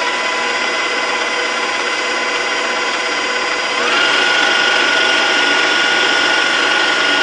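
Electric stand mixer whipping a peppermint marshmallow mixture, a steady loud mechanical whir that rises in pitch partway through as the speed changes, no talking.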